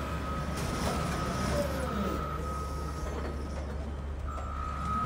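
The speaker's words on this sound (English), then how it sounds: "The Caterpillar 988K wheel loader is working at full capacity at the Nordia marble quarry," A Caterpillar 988K wheel loader works hard at a marble quarry moving big boulders, its steady engine drone running throughout, with a high tonal whine and faint beeps rising over the rumble.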